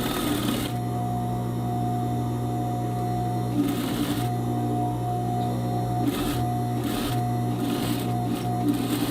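A sewing machine stitching the side seam of a straight skirt with a ruffle, running in steady whirring bursts with short pauses between runs; no talking.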